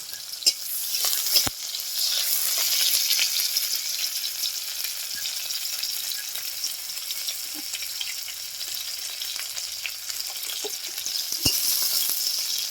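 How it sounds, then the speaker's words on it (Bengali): Onions frying in oil in a pan, browning for a spinach dish in a Bengali village kitchen, give a steady close sizzle with occasional stirring scrapes and clicks, no talking. "এই পেঁয়াজ একটু তেলে ভেজে নিচ্ছে লাল লাল করে।"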